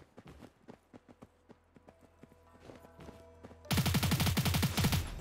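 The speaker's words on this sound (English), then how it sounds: "We have taken him out with the SMG." An SMG fires in the futuristic shooter Cyber Hunter, first as a string of quieter rapid shots. It ends in a loud, dense burst of close automatic fire.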